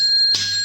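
Notification bell sound effect, a single bright electronic ding that strikes cleanly over a steady tonal background and rings on briefly.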